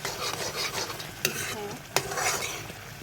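Steady sizzling of food frying in a pan, with a spatula stirring and scraping throughout and two sharper clinks of utensil against the pan.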